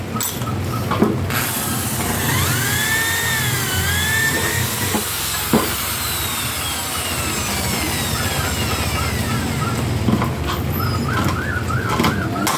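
Birds coo softly and repeatedly nearby over a steady hiss, with scattered faint chirps and no talking.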